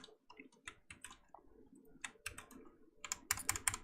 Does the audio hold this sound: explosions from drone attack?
no